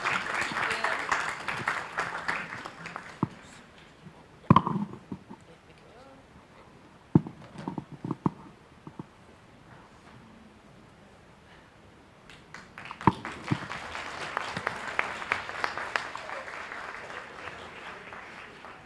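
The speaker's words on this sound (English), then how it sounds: "A round of applause for our young leaders." Applause from a conference audience at an opening ceremony, a broad rush of clapping at the start that thins out into scattered claps and talk, then swells again toward the end.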